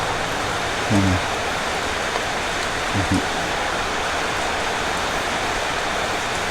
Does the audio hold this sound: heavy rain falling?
yes